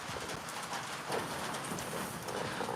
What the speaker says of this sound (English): We got some rain here in Minnesota.